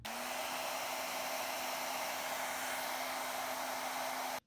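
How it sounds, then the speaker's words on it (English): A hair dryer runs steadily and loud for about four seconds, blowing on heat shrink tubing over relay wiring while fog lights are fitted to a Royal Enfield Himalayan motorcycle. It holds a constant hum with a broad hiss and no voices. "Now I'll shrink it down by using this hair dryer."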